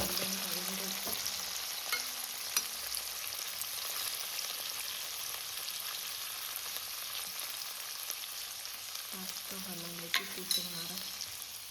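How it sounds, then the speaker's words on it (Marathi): Paneer frying in a hot pan with a steady, bright sizzle throughout, broken by a few stirring scrapes and clinks of a utensil against the pan, close and unaccompanied by speech. "आता मी पनीर टाकते"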